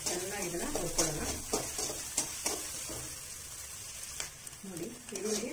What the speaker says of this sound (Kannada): ನೋಡಿ ಈರುಳ್ಳಿ ಚೆನ್ನಾಗಿ ಬ್ರೌನ್ ಕಲರ್ ಆಗಿ ಫ್ರೈ ಆಗಿದೆ